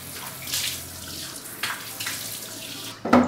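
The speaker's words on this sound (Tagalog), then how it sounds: "And then you wash your face." Tap water runs steadily into a bathroom sink during face washing, a continuous splashing stream with a few louder bursts as hands move through it, close by and alone without talk.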